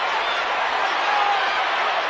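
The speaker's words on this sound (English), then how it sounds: "Crowd getting buzzed" A boxing arena crowd at a women's bout between Shields and Daniels keeps up a steady, dense buzz of murmuring, loud and unbroken throughout, with scattered voices inside it.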